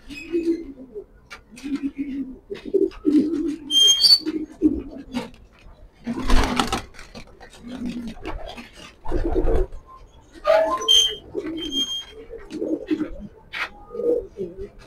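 A female grizzle pigeon coos in repeated low, rolling phrases close by, with someone speaking between and over the calls and a few brief higher chirps and rustles.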